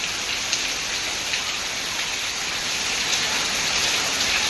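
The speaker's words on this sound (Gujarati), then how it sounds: "જોઈ શકો છો ફૂલ વરસાદ ચાલુ થઈ ગયો છે." Heavy rain pours steadily in a village, a dense, loud, continuous hiss of drops striking surfaces with no voices over it.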